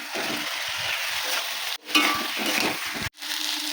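Spices frying in a pan with green chilli, salt and turmeric give a continuous close sizzle with stirring scrapes, broken by two abrupt brief drops in sound.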